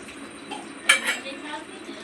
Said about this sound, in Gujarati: વાસણ ધોવે છે.